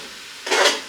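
A single brief stir of asparagus and garlic shrimp in a frying pan: one close, rasping scrape lasting about half a second, with no voices.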